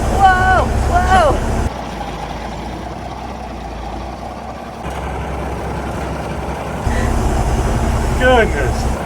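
A 1953 Peterbilt truck's engine rumbles low and steady while driving on a busy street, loud and close throughout, with brief voices near the start and end.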